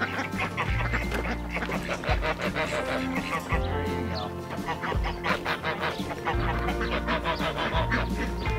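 Ducks quack loudly and repeatedly in a close, busy chorus on an Arizona farm, with honking goose-like calls mixed in throughout.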